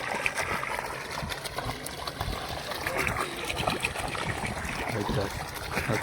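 Water flows and splashes steadily and fairly close, a continuous broadband rush with a voice faintly under it.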